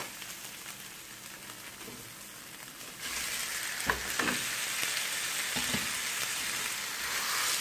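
Partly frozen minced meat frying in a pan for an aubergine dish: a soft background crackle, then a louder dense sizzle from about three seconds in, with a few clattering stirs and no speech.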